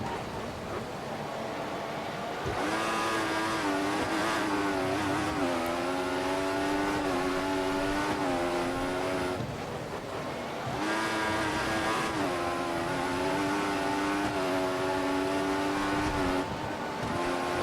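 Formula 1 cars race in traffic on a track in the F1 2014 game, engines whining loudly and shifting pitch as they accelerate, dipping briefly between gear changes before climbing again, with no talk.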